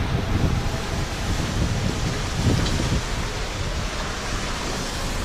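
Strong wind, about 40 knots, and breaking waves around a sailboat crossing the open sea off southern Sri Lanka: a loud, steady roar of wind buffeting the microphone over rushing surf, with no one speaking.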